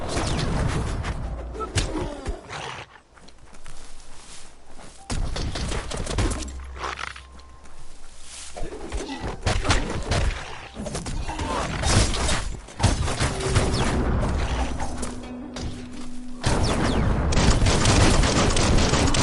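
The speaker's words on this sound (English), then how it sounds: "Bullets everywhere." Sustained gunfire from the video game Biomutant, dense bursts of shots filling the scene loudly and continuously alongside game effects and ambience.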